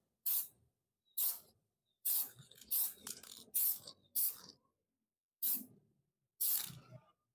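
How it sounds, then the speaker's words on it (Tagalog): An aerosol can sprays thin coats of amber paint onto a signal light in short repeated hissing bursts, about eight in all, each lasting under a second with silent pauses between, close and crisp. "Make sure na manipis lang yung pag-spray."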